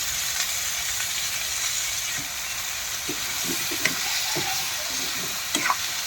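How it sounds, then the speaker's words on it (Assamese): Pork, potatoes and fern fry in hot oil with spices, a steady loud sizzle broken by soft stirring scrapes and knocks of the utensil. "এতিয়া পূৰা ভাজি থাকোঁ আৰু ঢেকীয়াৰ লগত গাহৰি মাংস আলু মছলা পাতি দি পূৰা ধুনীয়াকৈ এতিয়া ভাজি আছোঁ"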